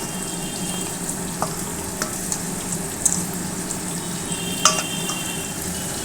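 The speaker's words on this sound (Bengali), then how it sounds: "মাথা পেঁয়াজ বসিয়ে দিয়েছি মাংসের জন্য" Chopped onions frying in a pan as the base for a Bengali meat curry, giving a steady close sizzle with a few faint clinks of a utensil, and no talk over it.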